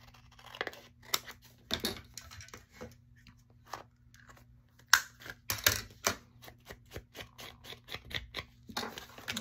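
Scissors cutting paper to make a side pocket for a handmade traveler's notebook, heard as a series of close, sharp snips and crisp paper rustles in irregular bursts against quiet.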